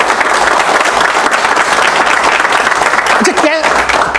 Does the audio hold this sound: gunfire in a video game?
no